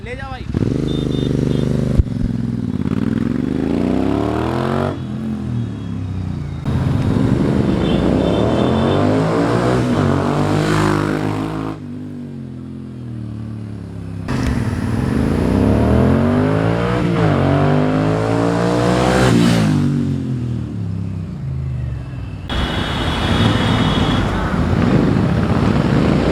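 Royal Enfield Interceptor 650 with a Powerage Performance aftermarket exhaust and dB killers removed, accelerating through gears as it rides away and returns in repeated passes, engine note rising and falling, loud when near and fading at a distance.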